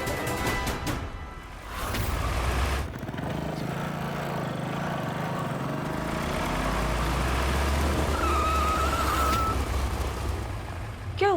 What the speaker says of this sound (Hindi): गाड़ी क्यों रोक दी?